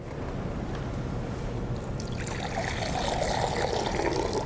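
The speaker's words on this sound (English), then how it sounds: "Water is beautiful when you watch it flow." Water flows and trickles in a steady, continuous stream that swells and grows brighter partway through, close and moderately loud with no voices.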